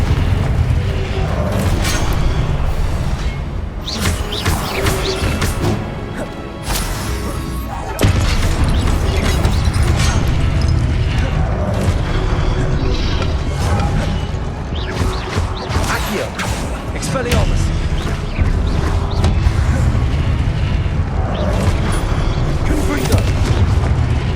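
Repeated Confringo blasting-spell explosions in the video game Hogwarts Legacy, loud booms and crashing impacts recurring throughout amid combat noise, with a voice shouting spell names now and then.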